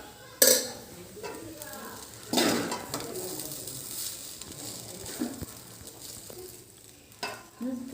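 Rice and potato being stirred together in a pan, with scattered scrapes and clatters of the spoon over a faint sizzle and a few louder bangs against the pan. Bird calls come in faintly from outside.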